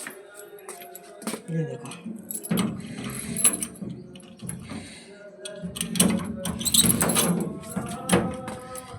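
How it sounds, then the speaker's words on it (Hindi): A door padlock is unlocked by hand, with a few close metallic clicks, ratcheting turns and rattles spread across several seconds while someone talks briefly. "तो उसका भी खोल लेती हूँ मैं ताला"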